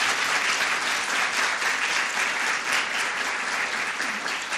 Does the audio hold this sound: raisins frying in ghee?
no